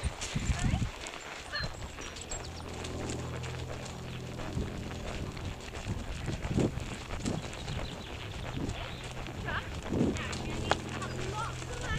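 A horse cantering under a rider, hooves drumming in a quick repeated rhythm at close range, with someone speaking over it and some wind noise.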